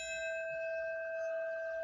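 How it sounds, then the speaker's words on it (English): A bell tolls at a memorial site: a single sustained, resonant ring with bright overtones that hangs and slowly fades, heard alone. "Hours earlier, bells tolled"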